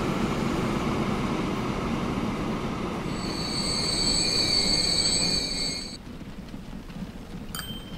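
A freight train carrying livestock rolls along in the Transport Fever railway game, its wheels rumbling steadily while high metallic squeals sing out for a few seconds and then fade, with no voices.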